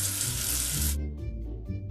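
Water splashes and runs in a children's alphabet video game as soap is washed off a letter, a steady faucet-like gush for about a second, then fading to soft cartoon game tones.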